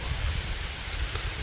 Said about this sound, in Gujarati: ઝરમર પૂગી આવ્યો જો.